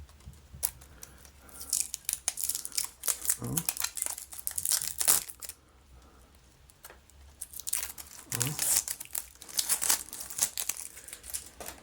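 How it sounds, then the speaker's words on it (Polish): Protective plastic film is peeled off a new Asus RTX 3060 12GB graphics card, giving close, loud bursts of crinkling and crackling in two main spells, with a voice now and then. "Na pewno trzeba ściągnąć tą folię stąd."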